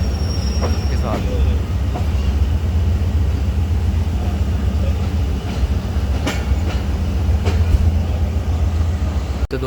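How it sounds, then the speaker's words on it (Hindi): Pakistani passenger trains, the 2 Down Khyber Mail crossing the 13 Up Awam Express at the Lahore Junction outer signal, give a loud, steady rumble of rolling stock with a few sharp metallic clanks throughout. "दोस्तों आप देख सकते हैं जी to down Khyber mail 13 Awam express को क्रॉस कर रही है लाहौर जंक्शन आउटर सिग्नल पे।"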